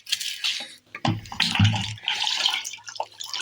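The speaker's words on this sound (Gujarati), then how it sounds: "આપણે ટંકીથી પાણી કાઢવા આવી ગયા છીએ" Water drawn from a storage tank for soaking material, a splashing, gushing flow with strong low rumble in the middle, surrounded by steadier trickling and rushing water close by.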